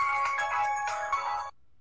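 A phone ringtone plays a bright electronic tone for about a second and a half, loud and close, then cuts off to a faint low hum.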